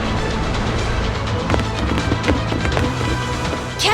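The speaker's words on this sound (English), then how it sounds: "Goromaru, ready the cannons!" Ship cannons fire during a pirate sea battle in the video game Like a Dragon, a rapid series of sharp blasts and cracks over a dense, roaring battle din with no talk.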